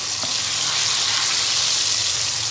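Cooking oil heats and bubbles in a wok before stir-frying fish, giving a steady, close, dense frying sizzle throughout with no talking.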